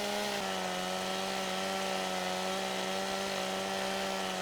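A chainsaw in the Farming Simulator 15 video game, felling a tree, drones at a steady pitch, loud and close, after a brief rise in the first half-second, with no talk over it.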